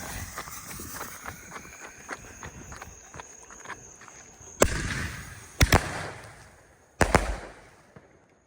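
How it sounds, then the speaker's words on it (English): Sky King artillery ball shells, consumer fireworks, bursting outdoors: several sharp loud booms and cracks after a stretch of faint popping and crackle, spaced irregularly a second or two apart. "Sus shells, Sky King Fireworks."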